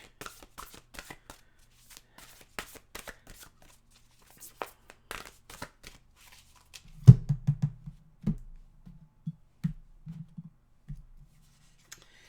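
Oracle cards are shuffled close by: a string of light, crisp riffling flicks, then a burst of heavier thumping shuffles, fading back to sparse soft taps.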